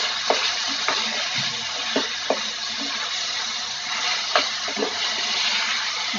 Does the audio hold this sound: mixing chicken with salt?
yes